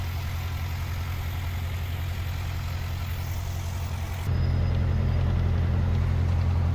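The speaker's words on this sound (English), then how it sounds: "this engine sounds a lot like a Volkswagen Beetle, and sure enough, it's got an opposed 4-cylinder engine," A Cessna 152's 110-horsepower opposed four-cylinder engine drones steadily in flight, a low throbbing hum heard from inside the small cockpit, which grows suddenly louder and deeper partway through.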